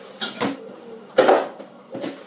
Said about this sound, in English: put the lid on and let it boil